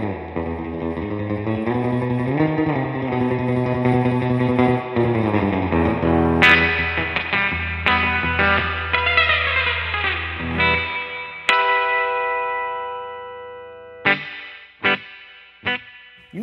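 Distorted electric guitar through a Fender Hot Rod Deville 2x12 60-watt amp, drenched in heavy, saturated reverb that swells and washes, then sparse plucked notes ring out with long echoing decay.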